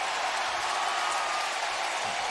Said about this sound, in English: Almost a Bronx cheer here in Cleveland here with the field goal make